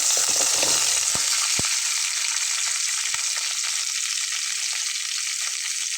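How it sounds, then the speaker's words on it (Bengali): Potatoes go gently into a pan of frying onion, bay leaf and green chilli, with a few clattering knocks at first, then a loud, even, close sizzle that continues without any voices. "আমি এখন এর ভিতরে আলুটাকে দিয়ে নেব আস্তে করে"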